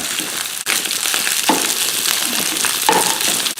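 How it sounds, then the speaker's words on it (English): Rice fries in a hot oiled wok with a loud, dense hiss. A spatula breaks it up and tosses it, adding a few sharp scraping knocks. "All right, now I'm going to put this rice right in. Let's break that down."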